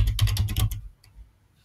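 A short burst of rapid keystrokes on a computer keyboard, about half a dozen close clicks in quick succession, then quiet with one faint tap.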